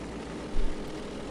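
Small propeller airplane engine running just after start-up, a steady broadband drone with a brief louder surge partway through, close by with no talk.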